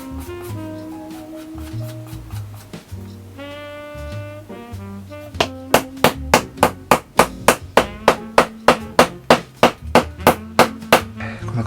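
Hammer striking a stacked leather heel lift on a handmade bespoke shoe, sharp ringing blows in a fast, steady series up close, preceded by a few scattered taps and light handling noises.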